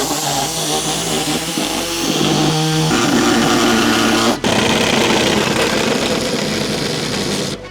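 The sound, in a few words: air saw cutting steel of car body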